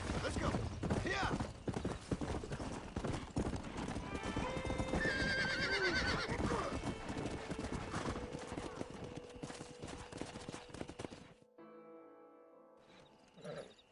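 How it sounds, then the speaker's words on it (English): In a Red Dead Redemption game scene, horse hooves clip-clop steadily and a horse neighs loudly, joined by faint rumbling and a few late thumps. "We got some fine horses."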